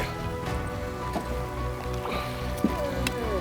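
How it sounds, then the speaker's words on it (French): A rain shower pattering onto a lake during a trout fishing trip at Pourvoirie Auberge la Barrière, soft scattered drops and splashes over a low, constant hum, with a few sharper ticks close by. "On a une bonne petite pluie, une bonne petite averse qui commence en même temps."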